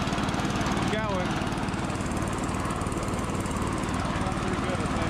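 Engines on a cataraft dredge under test drone loudly and steadily at close range with a fast throbbing pulse, and a brief voice or whistle-like sound rises over the noise near the start.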